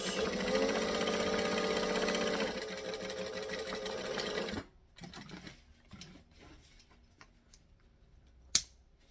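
A sewing machine stitches long lines and back stitches, whirring loudly and continuously for several seconds before stopping, followed by faint fabric handling and a sharp click.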